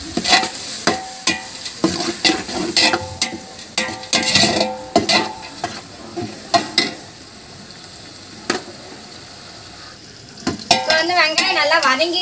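Chopped onions sautéing in a pan for a large batch of mutton biryani, with a soft sizzle under repeated close clanks and scrapes of a spoon stirring against the metal, plus a few brief clatters.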